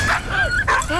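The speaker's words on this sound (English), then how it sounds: "Rescue the doggy!" A dog in the World War I video game Valiant Hearts gives a quick, close yelping bark that trails into a whine, lasting about one second.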